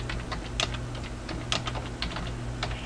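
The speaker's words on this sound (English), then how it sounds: "You can type in the word April 1st" Computer keyboard keys are tapped in a quick, irregular run as a date is typed, close and clear over a soft steady room hum, with no voices.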